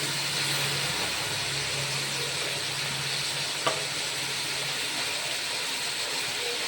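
Vegetables sautéing in oil for a pasta dish, lettuce and onion among them, give a steady, even sizzle and hiss throughout, with a faint low hum and one brief clink near the middle.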